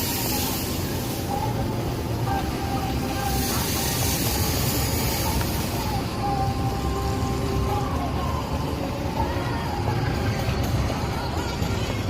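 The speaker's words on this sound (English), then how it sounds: "There's a tram," A yellow tram rolls along a wet Basel street in winter rain, a broad continuous rumble and hiss of wheels on rails and spray, with faint tonal squeals layered over the noise.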